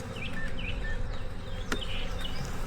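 A dense, continuous buzz of many honey bees and drones in an open hive fills the space, steady and close, with a few faint bird chirps and clicks above it.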